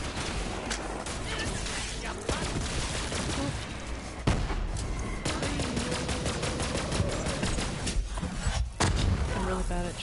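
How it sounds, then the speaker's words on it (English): Rapid gunfire from shooting at skulls in Borderlands 3, dense bursts of automatic fire with sharp individual cracks and game effects, loud and continuous over the whole stretch, with talking mixed in. "I'm really bad at shooting those skulls"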